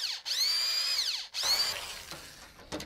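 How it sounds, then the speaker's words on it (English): A power drill spins up twice in a workshop. Each whine starts high, holds steady and winds down. Faint clicking and handling noises follow, with no voices. "Have you ever used a drill like that before?"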